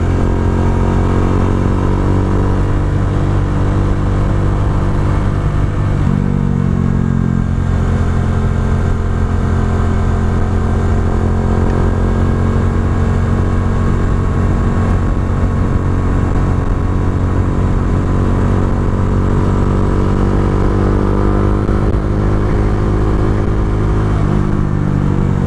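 Bajaj Dominar 400 UG2 motorcycle cruising on an expressway, a steady loud engine drone with harmonic hum and constant wind rush, shifting slightly in pitch around gear changes, with no talk.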